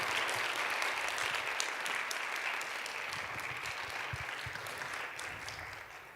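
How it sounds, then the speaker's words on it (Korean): A church congregation gives sustained applause welcoming a speaker, an even wash of clapping from a room full of people, moderately distant and fading gently toward the end. "우리 집사님 올라오실 때 다시 한번 큰 박수로 환영해 주시면 좋을 것 같습니다"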